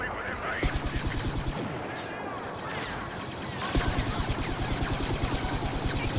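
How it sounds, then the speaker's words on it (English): Grenade launcher in Star Wars Battlefront firing a burst of three grenades that split off separately, with rapid bursts of gunfire, thuds and explosions in a busy battle mix, and brief voices underneath. "this grenade launcher, like, it fires three grenades, and then they all shoot off separately"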